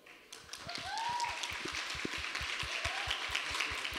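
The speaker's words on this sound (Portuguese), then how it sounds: "eu queria que vocês dessem uma salva de palmas para as famílias agora" Faint, distant applause from a church congregation for the families during a service: a soft, continuous patter of clapping with a few lower taps, steady throughout.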